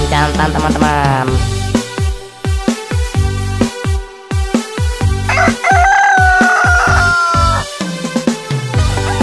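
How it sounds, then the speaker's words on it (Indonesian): A rooster crows loudly and repeatedly, its long calls rising and falling, with clucking and other fowl sounds mixed in. "Kuku kokoroyok, begitulah bunyinya. Kakinya bertanduk, ayam jantan namanya."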